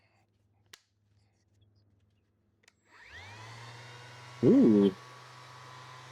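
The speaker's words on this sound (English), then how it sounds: "Test the orbital sander." A Hart orbital sander starts up after a few quiet ticks, settling into a steady electric whine and buzz, with one brief louder surge near the end as it is pressed on. A voice murmurs briefly.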